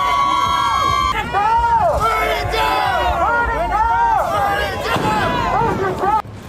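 Immigration protest crowd in Los Angeles, a dense roar of many voices shouting and chanting together, loud and continuous with overlapping cries and a sudden drop near the end.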